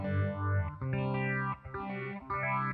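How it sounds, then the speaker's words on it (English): A Moogerfooger phaser in its basic 6-stage mode sweeps across a sequence of held notes, producing a swirling, shifting whoosh as each tone changes, moderately quiet and alone without voices. "Right, so there's a nice basic"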